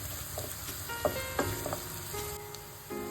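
Onions frying in oil for majjiga sambar, a soft, steady sizzle with a few light clicks of a spoon against the pan.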